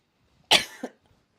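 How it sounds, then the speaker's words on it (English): A single sharp cough, close and fairly loud, followed by a softer short catch of breath, then quiet. "Sorry for coughing."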